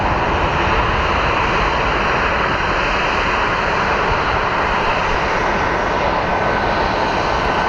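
Airliner jet engine taxiing at Phoenix Sky Harbor airport, a steady loud broadband roar that holds without a break, close to the microphone, with no voices.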